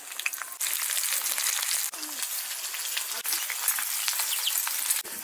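Loud, steady sizzling of mustard oil in a hot pan for tempering, with a few sharp clinks of a utensil cutting through.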